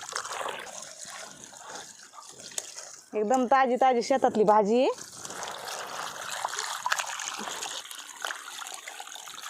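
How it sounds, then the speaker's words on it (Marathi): Tap water runs and splashes steadily in the background as vegetables are washed, while someone speaks briefly over it. "नळीचं पाणी घेतलंय भाजी धुवून घेऊ"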